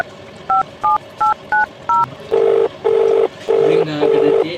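A phone number is keyed in on a keypad: five short, evenly spaced dialing beeps, then four longer, louder tones in a steady rhythm, heard close and alone.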